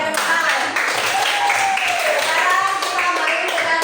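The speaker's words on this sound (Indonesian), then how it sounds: "Oke, tepuk tangan." A classroom group claps together in a dense, steady patter that lasts the whole few seconds.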